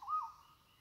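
Wild birds call in an old-growth forest where ginseng grows under the canopy, with one short tonal call up front that fades into a faint, distant background.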